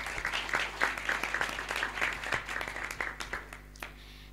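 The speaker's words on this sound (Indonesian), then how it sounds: "Tepuk tangan dulu buat Aidrat." Audience at a cultural gathering claps in a quick, fairly steady rhythm, moderately loud over a low steady hum, tapering off near the end.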